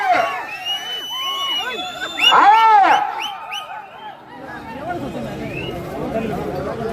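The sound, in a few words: crowd shouting and cheering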